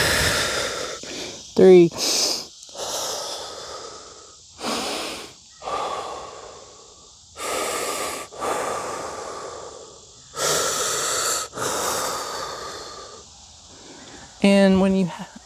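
Deep breathing during a fascial twisting exercise, loud close inhales and forceful exhales in irregular bursts, some snorting or hissing, with short silent gaps and a voice speaking briefly between breaths.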